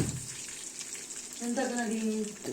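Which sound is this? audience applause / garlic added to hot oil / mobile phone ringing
garlic added to hot oil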